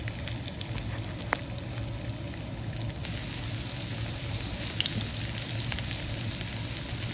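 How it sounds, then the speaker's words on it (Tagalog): Garlic sizzles steadily in a hot pan with olive oil and dairy cream, a constant close frying hiss with a few small pops and no talk. "Sa mainit na kawali, naglagay ako ng olive oil at ng dairy cream. At ilagay na rin natin ang ating bawang."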